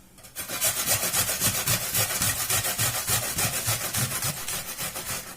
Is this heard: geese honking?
no